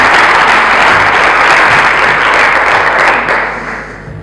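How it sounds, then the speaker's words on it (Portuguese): Loud audience applause at an entrepreneurship conference, a thick continuous roar of clapping that holds steady and then fades away toward the end, with no talking. "peço uma salva de palmas para Insta Class e para o Sérgio Ruivo Potim."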